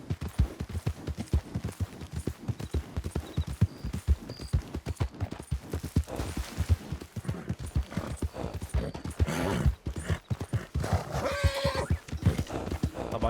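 Horse hooves clip-clopping in the video game Red Dead Redemption 2, a brisk, regular train of close hoofbeats with a whinny partway through and faint game ambience behind.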